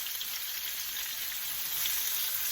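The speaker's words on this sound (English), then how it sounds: "We're going to stir it on up here." Food frying in a pan, a dense, steady hiss of sizzling oil held at an even level throughout with no clear stirring strokes.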